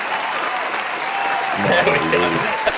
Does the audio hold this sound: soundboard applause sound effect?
yes